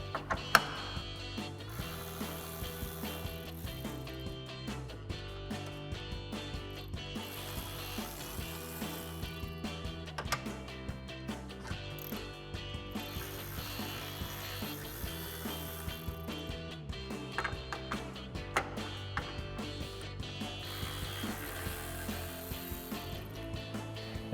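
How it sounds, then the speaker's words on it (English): Ratchet with a 10mm socket clicking out the grille bolts on a RAM 2500 pickup, rhythmic pawl ticking in several separate bursts with short pauses between them, fairly close and moderately loud. "So we'll grab a 10mm socket to pop these out."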